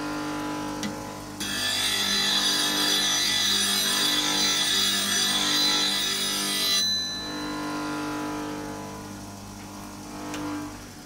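A lathe scraper's bevel is honed to raise a burr, giving a steady close abrasive rasp for several seconds before it stops and a quieter scraping stroke follows.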